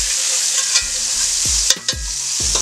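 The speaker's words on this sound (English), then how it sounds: "I'm not cooking it, I'm just browning them up." Pork chops brown in a hot greasy pan with a loud, steady sizzle, broken by a few utensil knocks and shifting sounds close by. No one is speaking.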